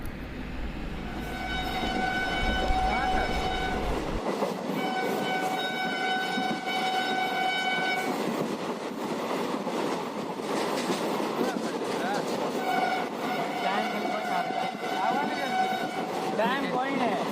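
Rajendranagar to Jaynagar Intercity Express (train 03226) running after Darbhanga, a continuous rumbling rattle of wheels and carriages with a long horn blast sounding twice, close and steady, with talk in the background.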